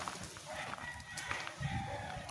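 A hen and her chicks clucking softly close by, a scatter of short fowl calls over light background noise.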